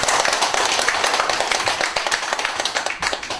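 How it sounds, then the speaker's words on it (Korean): An audience at a Buddhist college lecture applauds, dense and fairly loud clapping that carries steadily throughout, with a few faint voices mixed in. "박수 좀 주시죠."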